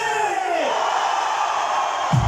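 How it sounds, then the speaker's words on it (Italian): A big crowd packed into a city square at a live May Day concert in Naples lets out one sustained, roaring yell on cue. The sound is loud and continuous and fills the whole moment. "tutta la piazza deve fare un urlo gigantesco a 3, 1, 2, 3!"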